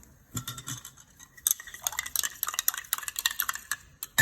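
A whitening base cream mixture is stirred in a container, giving close, rapid clinking and scraping strokes in an uneven rhythm. No one speaks.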